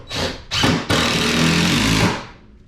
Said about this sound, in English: So we'll put a couple screws in the old floor